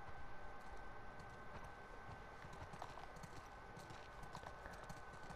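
Steady hoofbeats clip-clop continuously over a dense, noisy background in the game The Last of Us Part II, with no voices.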